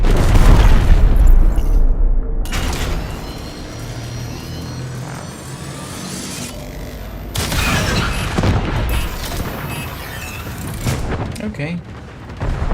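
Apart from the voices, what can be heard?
artillery explosion destroying cruise ship in Warframe video game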